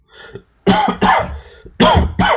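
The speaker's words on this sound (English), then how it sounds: "I know I'm coughing" Several harsh, close coughs in quick bursts, mixed with throat clearing, with short pauses between them.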